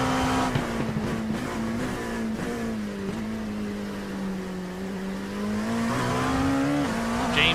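A race car engine held at wide open throttle on the Le Mans circuit in a racing video game, a loud, steady buzzing drone with a slowly wavering pitch, heard from onboard and continuous throughout without pause.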